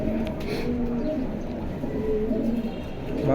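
Pigeons coo nearby in low, repeated throaty phrases that rise and fall over steady background noise.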